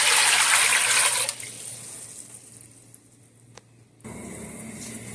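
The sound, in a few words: pouring about 2 litres of water into pot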